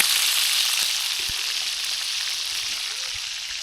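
Bacon sizzles in a pan on a rainy morning camping trip, a close, continuous crackling hiss with a couple of faint knocks and no clear talk.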